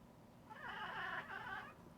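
A cat lets out a long, odd wavering vocalization, a strained, whiny yowl lasting about a second, fairly close and otherwise alone.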